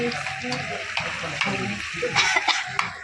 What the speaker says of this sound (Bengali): এই যে এখন তরকারি কষা হবে।